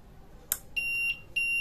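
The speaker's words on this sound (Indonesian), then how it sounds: "Nah, yang terjadi seperti ini, ada bunyi buzzer." A mobile crane's anti-two-block warning buzzer sounds in two steady high electronic tones, each lasting about a third of a second, following a short sharp click, loud and close with no talk.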